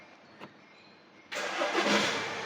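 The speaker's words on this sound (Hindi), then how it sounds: "देखो मैं गाड़ी को स्टार्ट करता हूँ" A car engine cranks and catches after a quiet moment with one faint click, then settles into a loud, steady run close by in a workshop during an AC climate-control diagnosis.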